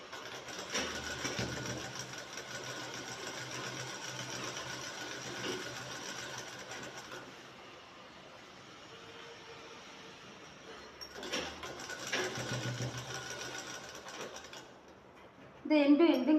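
A sewing machine stitches the collar of a shirt, running in a steady whirring stretch that eases to a quieter lull midway, then picks back up before a louder clatter at the end.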